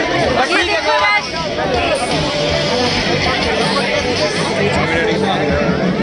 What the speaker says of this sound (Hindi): इतना ज्यादा भीड़ है उधर में।